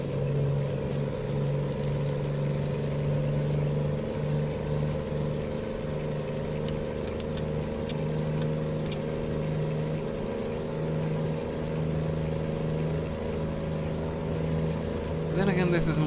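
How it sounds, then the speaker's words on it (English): A truck engine in American Truck Simulator hums with a steady, slightly buzzy drone that runs continuously and evenly, with a voice talking over it at times. "that engine was starting to sound a little buzzy"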